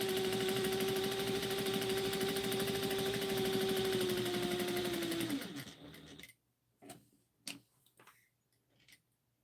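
A sewing machine runs a straight seam at stitch length 2.5, its fast, even motor whir and needle ticking held steady for several seconds before stopping, followed by a few soft handling clicks and thumps.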